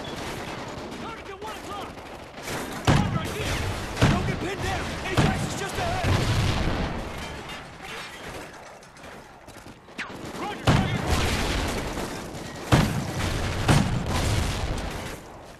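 Grenade launcher firing in Call of Duty: Ghosts, several heavy booming shots at irregular intervals amid steady gunfire and battle noise, with a voice talking faintly underneath.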